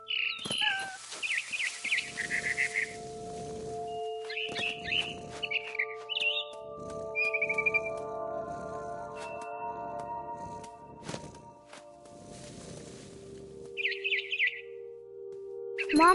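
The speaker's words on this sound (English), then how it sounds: "Then I heard chirping outside my window. It was a barn swallow going back to her nest." A barn swallow chirps outside a window in short bursts of high twittering, with scattered pauses, a sustained tonal background hum and occasional clatter between calls.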